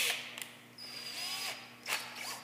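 Power drill countersinking into a pre-drilled hole in a wooden leg assembly, a faint whirring run with two brief bursts of higher-pitched spinning, recorded close and quiet with no talk.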